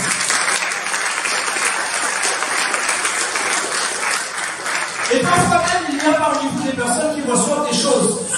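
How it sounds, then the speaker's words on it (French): A church congregation breaks into loud applause and cheering, the clapping swelling up and continuing strongly after a stretch of speech. "Acclame-le pour ça."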